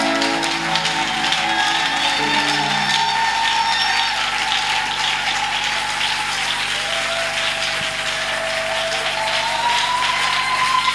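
A congregation at a church service applauds for the Lord, a dense, steady wash of many hands clapping that holds for the whole span, with sustained singing or music tones beneath it.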